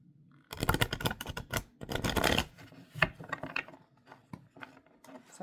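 Quick riffling bursts of tarot cards being shuffled, two longer flurries followed by scattered soft taps and slaps, close and fairly quiet.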